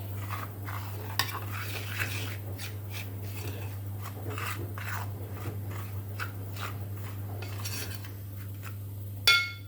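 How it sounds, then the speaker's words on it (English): Repeated scraping and stirring strokes in a bowl mixing chickpea and rice flour coating, steady and close, over a constant low hum, ending with a louder knock. "Mix this nicely."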